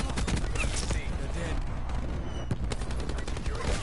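Dense rapid gunfire in a shooter game, continuous overlapping bursts of shots with sharp cracks throughout, loud and busy, with voices talking over the fighting.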